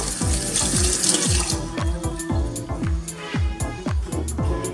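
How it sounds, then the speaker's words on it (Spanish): Tap water runs into a sink while makeup brushes are wetted for washing with soap, giving a steady splashing rush with repeated gurgling drips, close and without talk. "directamente las lavo con agua y con jabón. La humedezco."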